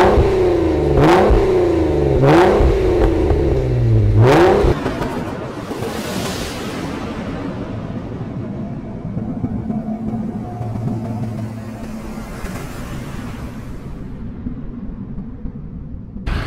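Modified Jeep engine at a modification workshop, blipped in three or four sharp, loud revs that rise and fall in quick succession, then settling to a rough, rumbling idle that carries on for the rest.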